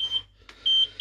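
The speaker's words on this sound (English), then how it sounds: "That is the alarm." A kitchen timer beeps while eggs are being poached, sharp high electronic beeps in a short repeating pattern with a brief gap between, fairly close and clear.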